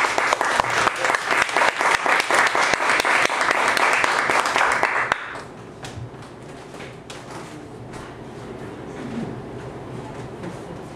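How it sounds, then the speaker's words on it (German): Loud, dense applause from a large concert audience in Berlin for about five seconds, then it drops off abruptly to faint room noise and scattered sounds. "ich denke, es gibt einen kräftigen Applaus"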